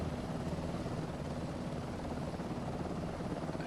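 Continuous helicopter rotor and engine drone from Microsoft Flight Simulator 2024, steady and even throughout with a low rhythmic thrum, no voices.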